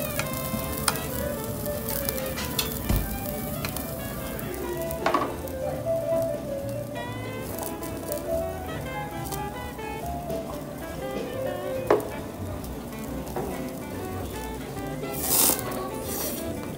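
Yakiniku meat sizzling steadily on a charcoal grill at a restaurant, a continuous close crackling hiss with occasional sharper pops and faint clinks, no talk over it.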